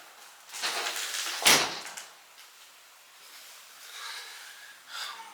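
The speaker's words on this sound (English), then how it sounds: "Let me go and close that door" A door thuds shut once in the middle, a short sharp knock followed by quiet shuffling sounds in a room.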